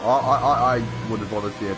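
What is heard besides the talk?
No everyday noise stands out behind the speech.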